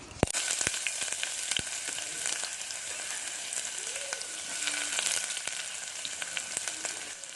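Onions sizzle and crackle in hot oil, a steady frying hiss with occasional pops and light stirring, close by and without talk.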